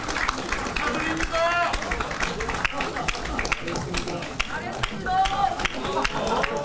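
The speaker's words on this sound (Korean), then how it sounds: "모두 박수 부탁드립니다." Scattered clapping and crowd noise rise at a Korean political party event, moderately loud and uneven, with voices and babble mixed in throughout.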